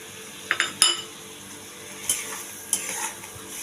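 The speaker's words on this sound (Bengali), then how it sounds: "এবার চিংড়ি মাছটা ছেড়ে দেবো।" Prawns for chingri malaikari go into a pan and sizzle steadily up close, broken by several metallic clinks and scrapes of a utensil against the pan, with no talking.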